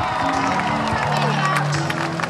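Crowd applauding and cheering for a performer at an outdoor town event in Vălenii de Munte, a dense steady wash of clapping with voices and music-like tones running through it.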